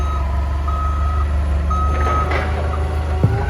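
Forklift driving across a grassy field, steady engine drone under a repeated electronic reversing beep pulsing close by, ending with a short knock.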